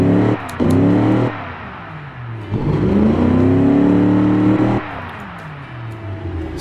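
A small engine built in the car game Automation revs repeatedly in a test, rising pitch sweeps climbing and dropping across three or four bursts, loud and close with no talk over it.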